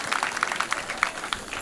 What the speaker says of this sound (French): Je voudrais qu'on vous applaudisse très fort